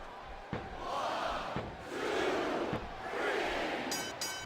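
The crowd in the wrestling video game WWE 2007 roars in swelling waves, punctuated by a few sharp thuds, steady and distant-sounding with no clear talk.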